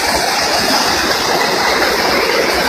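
Bacong Falls, a small waterfall, gives a loud, steady rush of falling water heard close by, unbroken for the whole stretch.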